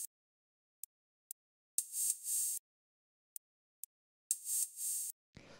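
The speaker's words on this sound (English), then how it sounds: "So the next thing that we have here are these hi-hats, which sound like this." 808-style drum machine hi-hats, open and closed, play a quiet sparse pattern: crisp short ticks alternate with longer hissing open hats, repeating twice. A brief low sound cuts in at the very end.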